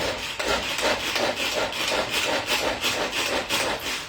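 Manual onion chopper dicing onion for beef lasagne, a rapid steady run of dense chopping and rasping strokes close up, continuous for several seconds with no talk.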